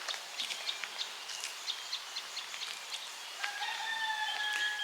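Roosters crow repeatedly from a distance around a Karen hill tribe village in Thailand's Golden Triangle, their calls overlapping in several drawn-out cries against a quiet outdoor background, with a longer, clearer crow near the end.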